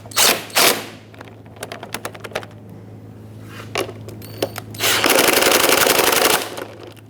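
Headlight bolts on a 2008-2012 Honda Accord are snugged down with rapid, loud mechanical clatter and a sustained buzzing burst near the end, over a low steady hum.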